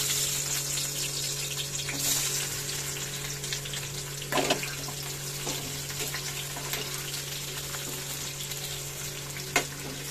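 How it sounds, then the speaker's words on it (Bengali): Onions sizzle gently in a pan, a soft, steady frying hiss at low volume that continues throughout with faint kitchen clatter and no talking. "হালকা করে ফ্রাই করবো"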